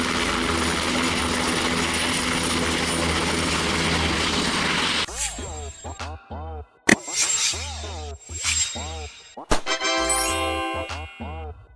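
An aerial survey helicopter, the kind fitted with cameras and sensors for mapping land and scanning power lines, gives a steady loud rotor and engine drone that stops after about five seconds, followed by bright chimes and tinkling tones.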